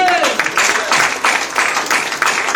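A church congregation claps together in rhythmic bursts during a Spanish-language worship service, a loud, steady wave of applause filling the room.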